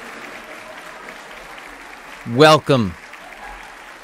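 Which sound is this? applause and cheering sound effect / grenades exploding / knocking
applause and cheering sound effect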